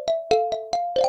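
A phone ringtone plays in short repeated melodic bursts, about five quick tonal notes with brief gaps, muffled as if sounding from inside a bag, in a D4DJ Groovy Mix game scene.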